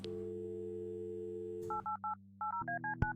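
A telephone in the Kathy Rain video game is dialed: a steady dial tone, then a quick run of about ten short keypad beeps in uneven groups, ending with a click.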